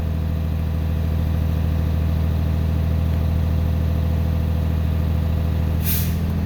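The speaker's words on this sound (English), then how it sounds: "rev up the motor, get it up to about 1500 RPMs so that I can watch the PSI come back up" A Class B truck's engine runs at a steady, raised idle around 1500 RPM during a pretrip air-pressure check, a constant low drone, with a short hiss of air near the end.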